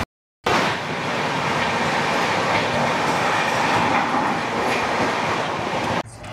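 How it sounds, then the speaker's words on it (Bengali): The Howrah–Puri Vande Bharat Express, train 22895, rushes past in West Bengal with a loud sustained roar and rhythmic wheel clatter after a brief silent start, cutting off abruptly near the end. "এবার আমাদের সঙ্গে দেখা হবে ট্রেন নাম্বার 22-895 হাওড়া জংশন থেকে পুরী বন্দে ভারত এক্সপ্রেসের সাথে"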